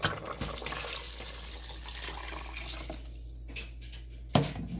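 Heated water poured from a vessel into a pot of pumpkin sambar, a steady splashing pour that runs for several seconds before tapering off, ending with a brief clank.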